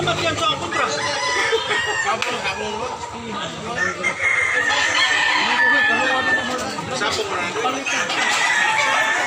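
Roosters crow and chickens cluck throughout a busy rooster market, a dense layered mix of birds near and far, with people talking underneath.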